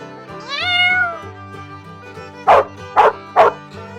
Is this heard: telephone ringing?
no